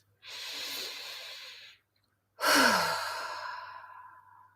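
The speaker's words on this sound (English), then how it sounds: "take a deep breath" Two long, deep breaths during a tapping session for releasing trauma, a slow breathy inhale followed after a short pause by a louder exhale that trails off, close and alone.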